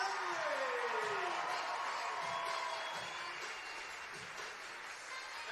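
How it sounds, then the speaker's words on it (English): A crowd at Kingston Park applauds and cheers after a Newcastle United Women match, continuous clapping fading slightly toward the end, while an announcer's amplified voice carries over it at the start. "keep that applause going for the captain, Amber Keegan-Stokes"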